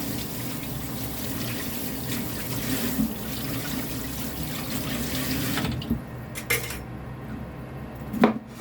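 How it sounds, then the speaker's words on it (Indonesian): Beetroot washed under a running kitchen tap, with steady water hiss and a few clinks of dishes and cutlery, the flow stopping near the end. "Kita cuci biar bersih dulu,"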